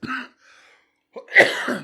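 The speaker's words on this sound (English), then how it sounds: "Residual cough, everybody." A short cough, then a brief quiet stretch before a louder, harsher cough burst close to the listener.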